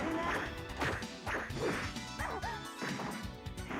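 A dog barks repeatedly indoors, close and loud, in a quick irregular run of sharp woofs and yips mixed with a few thuds and clatters.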